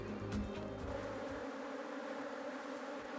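Bees working on a nearly finished honeycomb, a steady close buzzing drone with layered hums continuing throughout, no voices.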